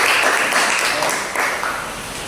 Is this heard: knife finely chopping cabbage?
no